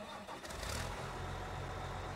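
An engine cranks and catches, then settles into a steady low rumble that continues loud and close, with no voices.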